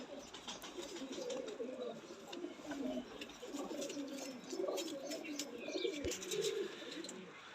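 Salare Teddy pigeons coo softly in repeated low, throaty murmurs, several birds overlapping in a quiet loft with faint chirps and light rustling.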